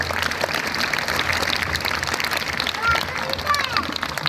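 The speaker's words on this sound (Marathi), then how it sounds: "सर्वप्रथम आपण त्यांचं सर्वजण टाळ्या वाजवून या ठिकाणी सन्मान करूया" An audience applauds to honour a guest at a public felicitation event. A steady wash of clapping fills the clip, with faint voices and background noise beneath it.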